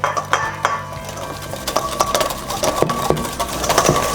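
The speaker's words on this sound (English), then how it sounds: "you're just going to whisk in very slowly your vinegar reduction" A whisk clinks steadily against a bowl as vinegar reduction is slowly beaten into egg yolks for eggs Benedict, with rapid metallic taps and scrapes close up throughout.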